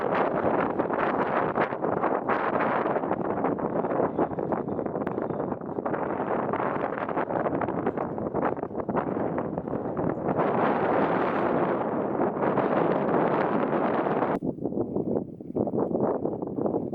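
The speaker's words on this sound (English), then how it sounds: "it's going to get really fucking windy once I leave this" Strong wind buffets the microphone on an exposed mountain summit along the Pacific Crest Trail, producing loud, continuous roaring gusts that fill the whole stretch and ease off only briefly near the end.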